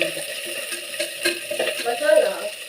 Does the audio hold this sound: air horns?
no